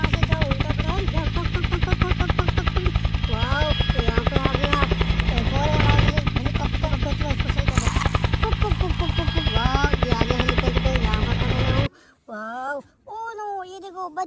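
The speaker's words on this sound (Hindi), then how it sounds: "और ये देखो हेलीकॉप्टर." A toy helicopter drones steadily with a buzzing, pulsing motor and rotor whir that ends abruptly near the end, followed by brief playful vocal sounds.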